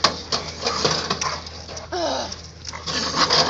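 A dog whimpering after being bitten by a raccoon, with panting and high, strained whines close by, mixed with rustling and a person's brief exclamation.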